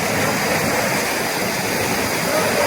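The Rungdung river rushes loudly at night near Naya Busty Badamtam, a dense, constant roar of flowing water filling the whole scene with no break.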